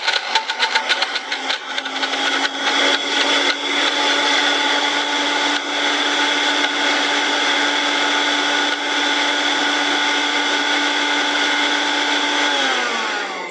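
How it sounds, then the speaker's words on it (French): A kitchen blender whirs loudly and steadily as it purees a lemon. The motor drones with a high whine for the whole stretch and winds down slightly at the very end. "On le met à l'intérieur du mixeur et on mixe."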